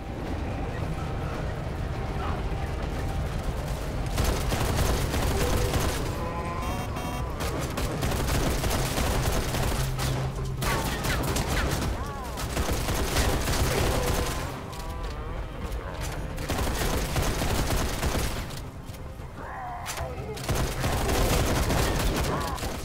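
Near-continuous gunfire in the game Raiders of the Broken Planet, loud and dense with rapid bursts over a busy mix of game noise, broken by a few brief lulls.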